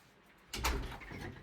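A door stopper wedge from a hardware store is slid under a locked door and pushed in tight with a foot, making a short scraping rub that swells suddenly and then fades over about a second.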